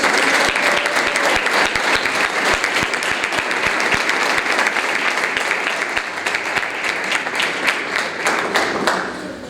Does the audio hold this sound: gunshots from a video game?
no